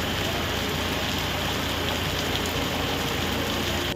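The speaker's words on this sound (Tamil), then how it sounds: "திருப்பத்தூர் மாவட்டம் வாணியம்பாடி சுற்றுவட்டார பகுதிகளில் பலத்த காற்றுடன் மழை கொட்டியது." Heavy summer rain driven by strong wind in Vaniyambadi, Tirupattur district, Tamil Nadu: a dense, loud, unbroken roar of downpour and gusts, constant throughout with no pauses.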